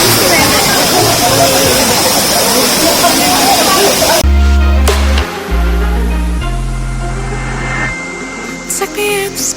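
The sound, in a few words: Jhor waterfall in Kathmandu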